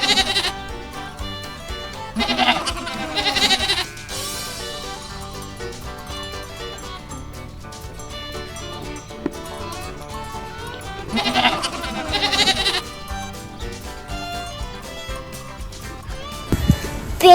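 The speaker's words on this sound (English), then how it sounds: "Let's go see the goats." Goats on a farm bleat in two loud clusters of repeated calls, near and clear, over a light musical backdrop.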